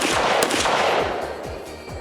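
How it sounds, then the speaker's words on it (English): AK-47 rifle fired at a downrange target on a shooting range, a loud, close burst of rapid sharp cracks with echoing booms trailing off. "You're going to take the rifle off safe, and you're going to engage the target downrange."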